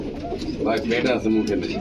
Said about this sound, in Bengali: এটা কি কবুতর ভাই